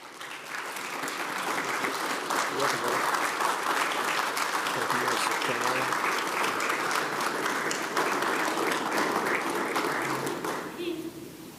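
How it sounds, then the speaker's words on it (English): Sustained applause from the audience at a city council meeting, a dense, steady wash of many hands clapping at even loudness for about eleven seconds before tapering at the end. "Let's give him a round of applause"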